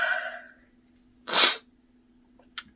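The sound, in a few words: sneeze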